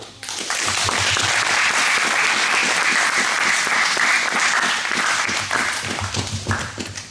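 Audience clapping at a chapel gathering honouring a SWAT team member, a dense, steady burst of applause that swells quickly, holds loud and even, then tapers slightly near the end.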